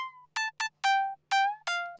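Future house synth lead built in FL Studio and pitched up an octave: six bright, buzzy staccato and sustained notes with pitch bends at the ends, played alone in a bouncy rhythm at moderate volume.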